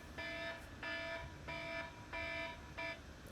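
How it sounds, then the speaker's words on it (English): An electronic alarm beeps in five regular pulses, tonal and moderately quiet, with brief gaps between each beep. "oh, that's my alarm."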